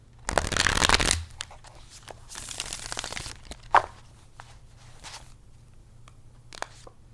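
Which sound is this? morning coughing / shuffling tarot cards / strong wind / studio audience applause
shuffling tarot cards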